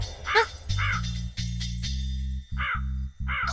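A crow caws several times in harsh, repeated calls, close and clear, over a low steady hum in the background.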